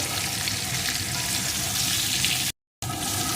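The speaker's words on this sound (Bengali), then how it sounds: "একটু লঙ্কা গুঁড়ো এখন আরও কিছুক্ষণ এইভাবে বেগুনটা কষিয়ে নেব" Eggplant with salt and chili powder sautés in a pan with a busy, continuous sizzle and faint scraping, broken by one brief silent gap near the end.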